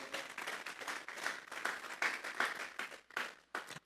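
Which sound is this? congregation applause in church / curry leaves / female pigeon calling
congregation applause in church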